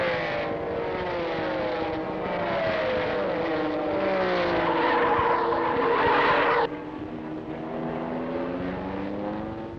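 Race cars at the 1970 Road America road-racing championship, a Datsun and Porsches, roar past with loud sustained engine whine rising in pitch, then cut abruptly as one passes, leaving a lower engine drone.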